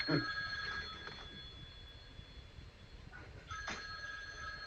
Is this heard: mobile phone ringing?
yes